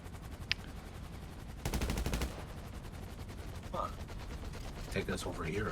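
Gunfire in GTA Online during a mission, with a short rapid burst of automatic shots followed by scattered lighter shots over steady game background noise, at moderate level.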